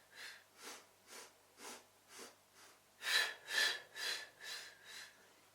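Rhythmic breathing during a Pilates mat exercise: about eleven evenly spaced, airy breaths, faint at first and then stronger for the last five, close to the listener.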